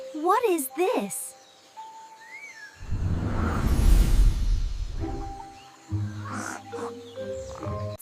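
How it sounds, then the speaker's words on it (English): A tiger lets out a deep, rumbling roar lasting a couple of seconds in the middle. Speech and short animated sound effects come before and after it. "It's a tiger."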